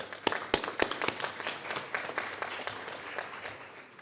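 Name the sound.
conference audience applause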